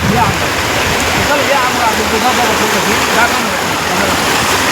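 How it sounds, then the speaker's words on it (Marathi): Steady rushing water, a constant loud roar of flow cascading down into a waterfall, continuing without pause. "हा या असा पाणी जात आहे खाली आणि तिकडं खाली धबधब्यामध्ये रूपांतर होत आहे"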